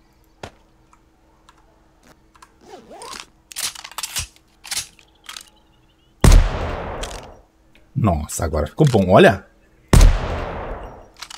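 Several sharp, loud rifle shots in the video game 7 Days to Die with a mod crack out at irregular intervals, mixed with clicking and a voice speaking between them.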